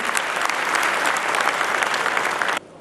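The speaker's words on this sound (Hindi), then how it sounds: "एक बार जोरदार तालियां" An audience at an LIC programme breaks into a burst of loud, dense clapping that continues evenly for a couple of seconds before stopping sharply.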